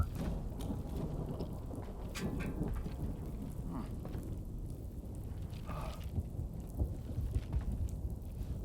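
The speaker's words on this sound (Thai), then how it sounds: "มันมีฝน" Steady rain falls in the video game Death Stranding 2, a continuous dense patter with scattered heavier drips and low rumbling underneath, with no voices.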